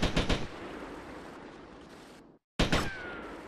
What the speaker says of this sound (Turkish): Bir yerden sıkıyor.